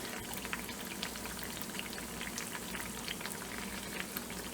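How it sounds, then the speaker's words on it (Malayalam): Muttapathiri batter frying in hot oil, a steady dense bubbling crackle that stays even and fairly quiet throughout, with no voices. "ജസ്റ്റ് ഒന്ന് ഒരു സൈഡ് ഫ്രൈ ആയി വരട്ടെ"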